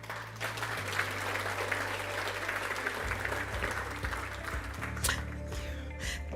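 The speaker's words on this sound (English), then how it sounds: "Please give him a round of applause." An audience at an annual day of learning event applauds in a sustained, even patter of many hands, moderately loud and continuous, over a low electrical hum.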